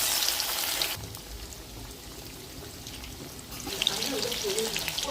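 Fish fries in hot oil, a bright hissing sizzle that drops away after the first second and returns louder near the end, with faint background murmur.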